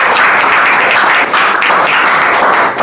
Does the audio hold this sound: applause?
yes